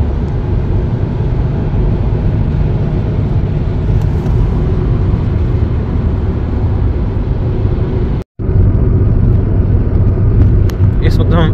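A car cruising on the M4 motorway near Reading, England: a loud continuous low road and engine rumble with tyre roar, steady throughout, broken by one brief dropout near the end.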